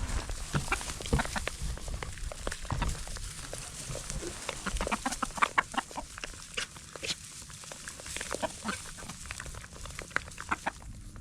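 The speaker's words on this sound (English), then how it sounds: "Oh, of course the chickens are coming." Chickens mill about nearby with scattered clucking and scratching, short irregular bursts of activity over a quiet outdoor background on a farm.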